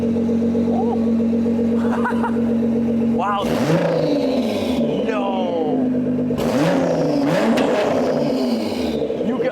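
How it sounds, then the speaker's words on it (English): Nissan GT-R with turbo and custom exhaust revving hard in two sharp bursts over a rumbling idle, a rising whoosh and crackling pops, close and loud, with a person's brief exclamations mixed in. "You can hear the turbo so good."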